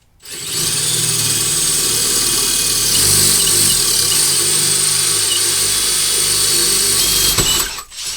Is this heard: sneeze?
no